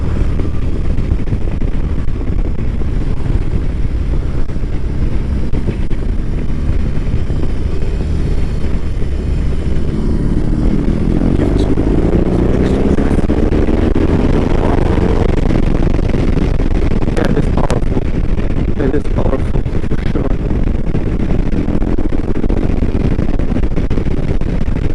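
A BMW R18 B heavy cruiser motorcycle being ridden, its engine a loud continuous rumble mixed with strong wind roar throughout, rising slightly in pitch midway as it accelerates.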